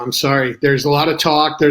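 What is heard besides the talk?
None of the usual background noises is heard.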